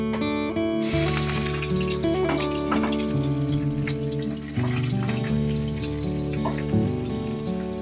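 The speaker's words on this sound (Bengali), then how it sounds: "তো এখন আমি কড়াতে তেল দিয়েছি, তেলটা প্রায় গরম হয়ে এসছে। তো আমি এখন দেব পেঁয়াজ কুচি" Chopped onion sizzles as it drops into hot oil in a wok, a steady frying hiss that starts abruptly and continues under background music.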